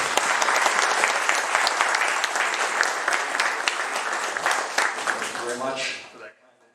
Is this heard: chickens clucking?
no